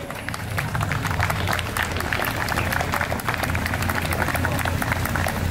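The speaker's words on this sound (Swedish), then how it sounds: "Vi ger dem en applåd." Crowd applause greets a moped team at a maneuver test at Nälsta gård homestead in Spånga, a dense, steady clapping that stays loud and continuous throughout, mixed with background crowd noise.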